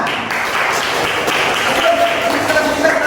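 A classroom of students applauds in a steady, moderately loud burst of clapping filling the whole stretch, with a faint murmur of voices underneath.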